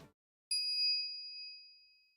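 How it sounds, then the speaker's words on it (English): Microwave chime in the Steins;Gate Elite video game: a single clear electronic ding that rings out and decays slowly over about two seconds after brief silence. "120 seconds pass, the microwave chimes."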